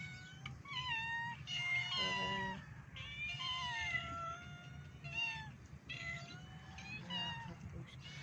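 Several cats meow repeatedly and overlap, plaintive calls rising and falling close by over a low background rumble.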